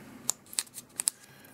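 Scissors snip a micro SIM card down to nano size in a series of about five sharp, crisp cutting clicks, quiet and close against near silence.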